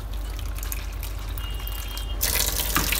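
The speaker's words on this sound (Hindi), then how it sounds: "इसको जो है ना हम लोगों ने इसके अंदर पानी ऐड करना है" Water poured into chopped green chillies and onions in a home kitchen: a steady near rush of running liquid that swells louder and brighter toward the end, with no talk.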